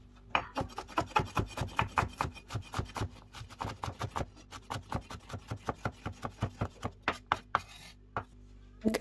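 Onion is finely chopped on a board with a knife for a potato and carrot vegetable dish, producing a rapid, even series of crisp near thuds, about three per second, with a brief pause near the end.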